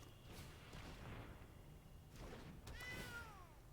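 A game sound effect of a cat meowing for the Cauldron Familiar card in the Magic: The Gathering video game, a short rising-falling meow near the end over a faint background, with no voices.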